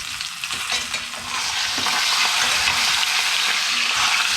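Lamb shanks sizzle loudly in a hot pan as they are turned, a dense, continuous hiss that grows fuller after the first second, with faint scrapes and knocks of the pan underneath.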